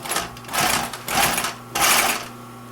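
Sewing machine stitching a leather bag lining, three loud, close bursts of rapid whirring stitching separated by brief pauses, no talk.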